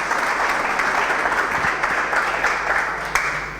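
A hackathon audience in Berlin claps for the announcement of the winners, producing a sustained, even wash of crowd applause at a fairly close, loud level that holds steady for a few seconds with no talking.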